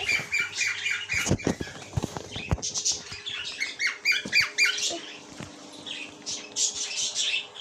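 Pet parrot squawking and squeaking in rapid, repeated bursts, close and fairly loud, with sharp clicks and thumps scattered through and no talk over it.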